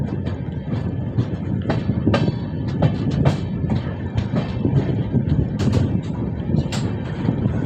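A passenger train on the Belagavi to Sangli line runs along the tracks, with a loud steady rumble and repeated clacks and knocks from the wheels close by.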